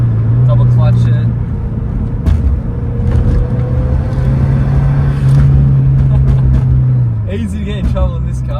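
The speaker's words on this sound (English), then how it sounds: "Just sounds immaculate. The blow-off valve and the exhaust." Subaru WRX GC8 engine and exhaust revving hard from inside the car, a loud steady drone rising and falling under continuous talk, with short hissy bursts near the end that fit the blow-off valve venting.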